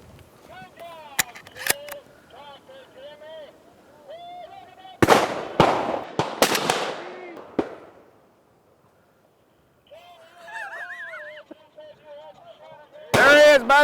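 Shotguns fired during an upland bird hunt in heavy timber: several sharp, loud reports, some in quick succession, spaced across the clip, with people talking quietly between them.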